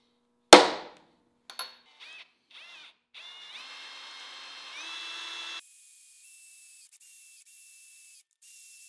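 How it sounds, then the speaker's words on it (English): Cobalt drill bit boring a hole in steel: a sharp impact, short bursts of drilling, then a steady whining cut that stops and trails into faint squeaks and taps. "Now I'm gonna do the same exact hole, but with a cobalt drill,"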